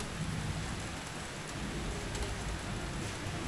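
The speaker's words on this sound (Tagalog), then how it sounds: "Lakas pa din ang ulan." Heavy rain pours steadily at a house in Wawa, a dense continuous hiss of drops on surfaces that stays loud and unbroken throughout, with a faint low rumble underneath and no voices.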